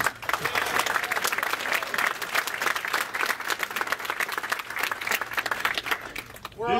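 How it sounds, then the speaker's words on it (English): Sustained applause from a large audience at a Pathfinder RPG preview banquet, dense steady clapping filling the whole stretch and swelling slightly near the end. "You guys deserve a big round of applause, please."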